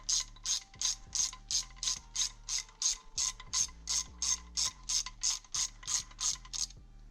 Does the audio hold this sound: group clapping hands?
no